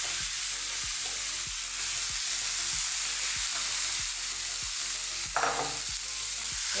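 A mashed banana blossom and potato mixture fries in a pan under a steady sizzle, with a spatula scraping and stirring at a regular pace, about a dozen close strokes.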